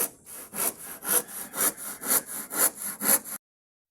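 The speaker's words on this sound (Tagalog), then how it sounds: "Ito yung maliit na lagari yung gamit natin," A small hand saw cuts wood for building a boat in about eleven steady back-and-forth strokes, close and clear, rasping rhythmically before stopping abruptly, with no talk.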